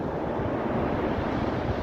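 Sea surf rolls continuously onto a beach near Mar del Plata, a dense broadband wash of breaking waves with wind rumble, loud and close, with no voices.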